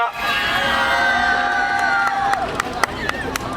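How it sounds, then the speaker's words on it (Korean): An audience at a students' rally for a safe school route applauds and cheers, with raised voices and crowd noise, and sharper claps coming through toward the end. "큰 박수 부탁드리겠습니다"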